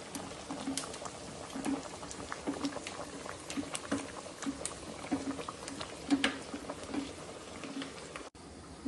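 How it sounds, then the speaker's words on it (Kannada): A mashed cooking mixture thinned with a little water boils in a pot, giving a steady, close bubbling and popping patter that runs on alone for several seconds. "ಎಲ್ಲ ಮಸ್ಕೊಂಬಿಟ್ಟು ಮತ್ತೆ ಕುದಿಸಿ ಸ್ವಲ್ಪ"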